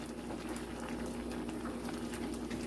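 A pot of lentil dalpuri filling bubbles steadily at a boil, a soft continuous simmering hiss with small pops throughout, with no talking.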